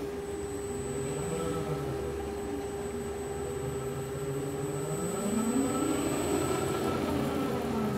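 An electric car motor driven by a Soliton controller under throttle control hums with a steady whine and a high tone, its pitch sweeping upward toward the end, continuous and fairly close.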